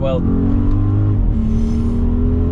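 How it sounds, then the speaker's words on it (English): A 2020 Audi RS Q8 with a 4-litre twin-turbo V8 of 600 horsepower hums with a steady engine tone and a brief rising rev, beneath a voice. "that engine, 4-litre, twin turbocharged V8, 600 horsepower, 800 Newton meters of torque"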